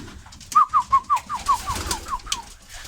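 A homing pigeon in a loft gives a clear, close run of about nine quick cooing notes, strong at first and then trailing off softer, with no voices over it.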